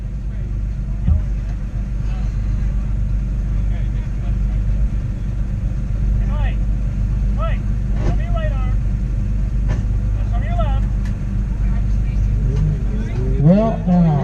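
A Corvette Z06 and a Dodge Neon ACR launch at a Pro Solo autocross in Oscoda, Michigan, with a steady, loud engine rumble and a few rising revs running throughout under continuous announcer talk.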